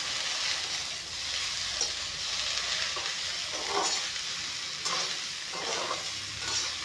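Sliced okra fries in hot oil with turmeric and curry leaves as it is stirred in the pan, a steady close hiss with soft scraping swells from the spatula and no voices.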